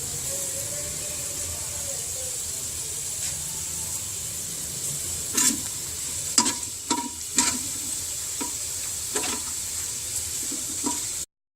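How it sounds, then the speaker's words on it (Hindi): Onions frying in oil with cardamom, fenugreek seeds and mustard seeds, a steady close sizzle throughout with several sharp stirring scrapes and clacks of a spoon in the pan. "प्याज हल्के से फ्राई करने के बाद इसके अंदर हम एक इलायची डालेंगे, मेथी दाना और साथ ही थोड़ी सी राई डाल देंगे।"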